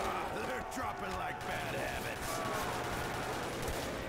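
MP40 submachine gun fire in the Custom Zombies video game, rapid overlapping bursts and impacts throughout, running under someone talking.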